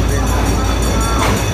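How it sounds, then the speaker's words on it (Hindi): A train pulls into Hyderabad Junction with a loud, heavy rumble close at hand that fills the whole moment and stays constant throughout. "तो ट्रेन आ गई है"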